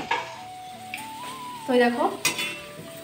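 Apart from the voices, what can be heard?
potatoes frying in spice masala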